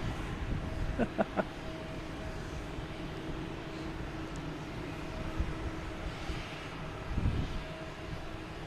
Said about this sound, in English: We have JetBlue coming in from Buffalo in E190